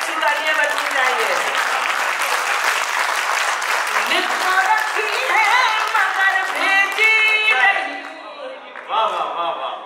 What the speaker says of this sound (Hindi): अच्छे शेर पे अच्छी तालियां बजनी चाहिए